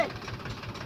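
Tractor engine labouring while trying to pull a water-tank trolley sunk in mud, a near, uneven knocking rumble with steady vibration over about a second.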